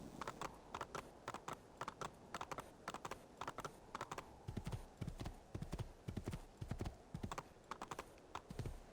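A horse's hooves clip-clop in a steady, rhythmic trot while it is ridden in Assassin's Creed 2. The gait is quiet and even, with no voices over it.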